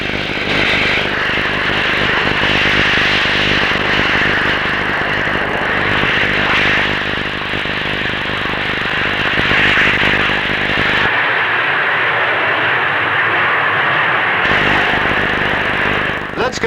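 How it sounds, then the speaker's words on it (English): A de Havilland Comet jet airliner with four Rolls-Royce Avon engines roars loudly through its takeoff at an air show, a sustained broad jet rumble and whine that holds steady before briefly dropping in tone and returning. "Powered by 4 Rolls-Royce Avon jets, its takeoff run is exceptionally short."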